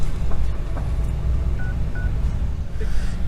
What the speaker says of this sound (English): Let's give Mr. Wallace a call.